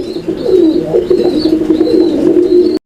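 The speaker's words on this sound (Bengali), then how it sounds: "খালি কবুতর দেখবে না ডাকও দেয়" Pigeons cooing at a bird market, repeated low throaty coos in a soft rolling rhythm, close and fairly loud with a faint higher tone in the background.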